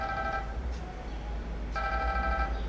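Telephone ringing in a Gabonese film scene, two bursts of electronic bell tones separated by a pause, loud and close over a steady low hum.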